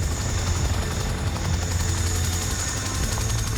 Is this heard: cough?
no